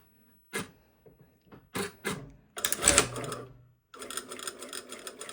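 A sewing machine stitches an all-in-one facing to a bodice, worked from the body side. Short, close mechanical bursts come first, then a longer, louder run of stitching and a steady closing stretch, with no talk.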